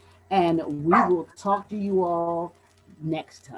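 A pet dog barks and yips in a home during a recorded interview, its bursts mixed in with someone speaking close by.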